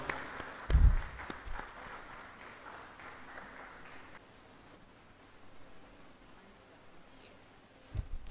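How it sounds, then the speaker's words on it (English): An event audience applauding after a panel introduction: scattered clapping with one brief louder burst near the start, then a thinner, quieter patter that fades toward the end. "Please keep on clapping."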